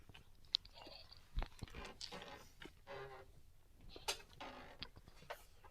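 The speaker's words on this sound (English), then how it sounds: "Oh, he's chewing." Someone chews loudly right on a microphone during an online game day stream, giving soft irregular smacks, crunches and clicks, faint overall with no speech.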